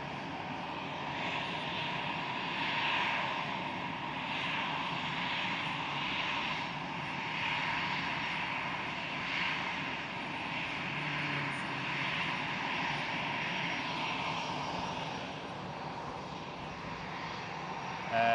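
A Cathay Pacific Airbus A350 taxis at Schiphol toward runway 18 left, its jet engines giving a steady, unbroken drone at moderate distance for the whole stretch.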